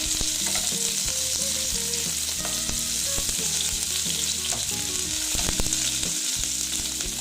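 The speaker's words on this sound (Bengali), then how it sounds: "দিয়ে অল্প ভেজে নিচ্ছি পেঁয়াজটা" Chopped onions fry in oil in a pan, giving a loud, steady sizzle throughout, with scattered scrapes and knocks of a utensil stirring them.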